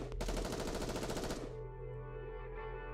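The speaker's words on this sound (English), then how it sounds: "Soon after, there's the sound of gunfire, and screams fill the streets" Rapid automatic gunfire from the video game Goddess of Victory: NIKKE, a dense burst of fast shots for about a second and a half, then cutting off to a low lingering tonal hum with no voices.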